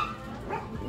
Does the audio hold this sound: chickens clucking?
no